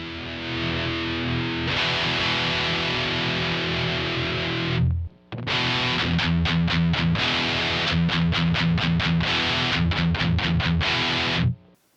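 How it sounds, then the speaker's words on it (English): Heavily distorted electric guitar played through a Carl Martin distortion pedal: sustained chords, a brief stop, then loud rhythmic metal chugging riffs, dense and saturated throughout with no voices. "The use of a distortion pedal allows a lot more tonal possibilities"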